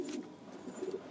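Pigeons coo nearby in a steady, low murmuring run while being fed chickpeas, lentils and other grains, with no talk over them.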